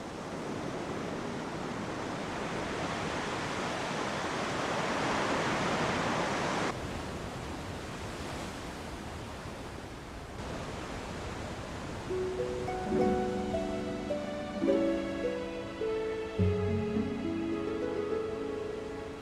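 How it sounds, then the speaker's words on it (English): Rough Indian Ocean surf pounds against the Zuytdorp Cliffs on Australia's western coast, a broad roaring wash that swells and briefly drops away, then continues under rising orchestral music. "Rough waves of the Indian Ocean pound against the cliff, sending up white water into the air."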